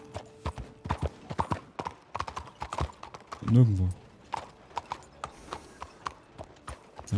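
A horse's hoofbeats in the video game Red Dead Redemption 2 Online clip-clop steadily throughout while someone speaks briefly in German over them.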